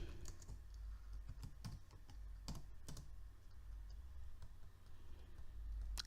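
Typing code on a computer keyboard: soft, irregular key clicks scattered over a low steady hum, close but quiet, with no voice.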